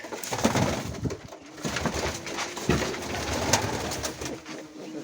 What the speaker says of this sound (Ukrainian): Красива голубка.